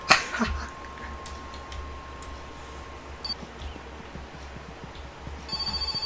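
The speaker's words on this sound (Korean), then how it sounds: "어 전화 왔다" In the video game My Summer Car, a telephone rings with a steady electronic tone. The ringing sounds at the start and returns at the end over a low background hum, and nobody talks.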